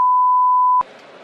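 A single steady censor beep, a pure tone lasting under a second, cuts off abruptly into soft hiss.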